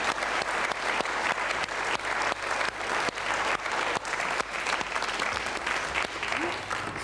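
A studio audience at a 1990 French television talk show applauds steadily as a guest is introduced, dense clapping at close range for the whole stretch with a faint voice underneath.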